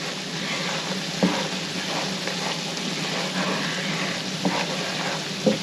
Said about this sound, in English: And you keep stirring because if you stop, that flour will settle on the bottom and burn